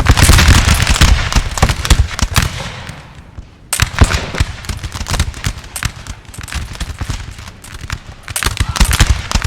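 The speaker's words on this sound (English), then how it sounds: "Prepare for a volley." Musket volleys in a Napoleonic battle at snowy Austerlitz in Napoleon Total War, a loud dense crackle of many shots rolling continuously, briefly thinning, then surging again.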